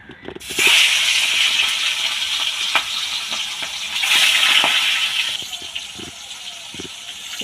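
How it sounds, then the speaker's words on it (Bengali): Aar fish pieces dropped into hot oil in a wok, bursting into a loud sustained hiss that swells again midway, with sharp spattering crackles, then easing off. "এবার আমি একদিক ভেজে নেব।"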